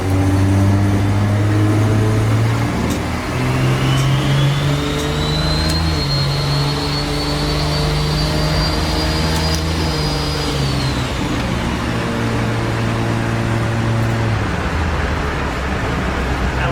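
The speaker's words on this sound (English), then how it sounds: "Sound of the new turbo. It sounds so good. Hear the whistle?" Freshly fitted turbocharger on a car engine, its whistle rising into a steady high whine over the loud, continuous engine drone, holding for several seconds before tapering off as the revs fall.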